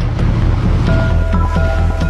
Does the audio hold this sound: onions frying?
no